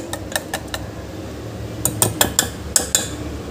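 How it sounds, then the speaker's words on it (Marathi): Batata vada batter being mixed with hot oil: a utensil clinks and taps against a bowl, a few light knocks early then a quicker cluster of sharper clinks near the end, with no talking. "इथे मी गरम तेलाचं मोहन घालत आहे आणि याला छान मिक्स करून घ्यायचं आहे।"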